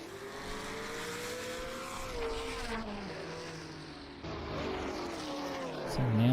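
A 1950s Lancia Grand Prix race car on the Pescara circuit, its engine droning steadily as the pitch rises and falls through gear changes and corners, with other race cars and commentary blended in.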